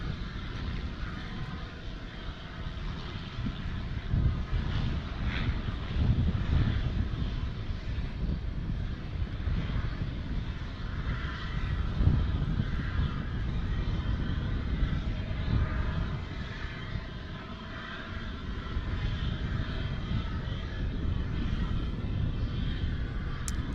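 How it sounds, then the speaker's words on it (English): Wind blows at Dallas Fort Worth International Airport, making a steady, rumbling buffet that swells and eases continuously, with a dull roar of aircraft engines blended into it. "It is quite windy today."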